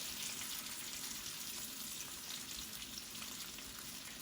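Bacon fries slowly in a pan, giving a soft, steady, even sizzle and crackle throughout, fairly faint and with no voices.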